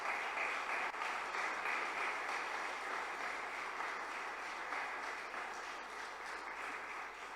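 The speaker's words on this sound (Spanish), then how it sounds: "Amén. Fuerte aplauso." Church congregation applauding steadily at a worship service, a dense, even wash of many hands clapping that holds for several seconds at moderate level, with no talk over it.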